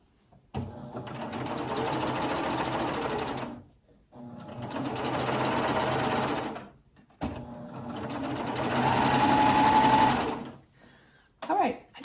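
A coverstitch machine runs in three long, steady bursts as it sews a T-shirt hem, its close mechanical whir stopping briefly between runs while someone talks over it.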